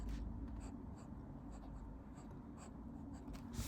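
A Platinum 3776 fountain pen with a C nib writes on paper, giving a quiet, close scratching with faint rhythmic strokes and soft ticks of pencil-like feedback.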